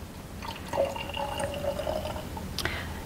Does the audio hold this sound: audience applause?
no